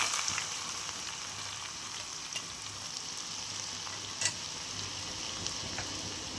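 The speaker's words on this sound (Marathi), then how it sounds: "आता आपलं तेल छानपैकी तापलेलं आहे, तर त्यामध्ये आता आपण सर्वप्रथम जिरं टाकणार आहोत. भरपूर जिरे टाकून घेऊयात आणि नंतर लगेच आपण ठेचलेला लसूण टाकून घेणार आहोत." Cumin seeds and crushed garlic sizzle in hot oil for a Khandeshi khichdi, a steady, fairly quiet hiss with a faint low hum beneath and one brief clack midway, no one talking.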